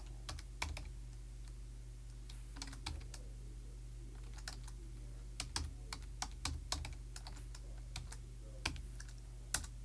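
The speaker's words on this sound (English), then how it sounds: "I'm just going to type this in" Someone types quickly on a computer keyboard, with sharp, irregular key clicks in short bursts over a steady low hum, close and fairly quiet, with no talk.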